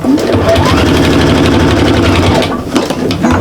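A sewing machine runs steadily, stitching a short back stitch while sewing a shopper bag, close and continuous with a brief slowdown near the end.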